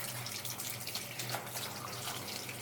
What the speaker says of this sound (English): I'm going to wash it off now